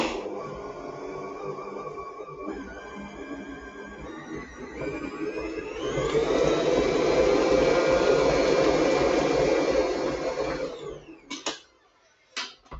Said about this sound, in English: So in goes the last of the egg and the last of the flour and the final mix.